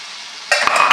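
Onions frying in a pan with sugar added, a steady sizzle that jumps louder as a spoon stirs them, with a few scraping knocks near the end.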